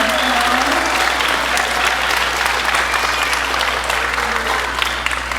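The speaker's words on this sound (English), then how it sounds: "let's give both our valedictorian and our salutatorian another round of applause" Steady applause from an elementary school graduation audience fills the space for several seconds, dense and continuous with a faint crowd murmur beneath.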